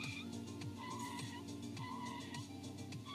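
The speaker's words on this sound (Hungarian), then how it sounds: "És akár útközben driftelgethetünk egy kijelzőn, ha nem szeretnénk élőben csinálni ezt az autóval." Drifting car game playing through a CARPURIDE W708 car multimedia screen: a faint, steady engine drone with stepped, rising and falling revs and tyre-like whine, low in level and continuous with no talking.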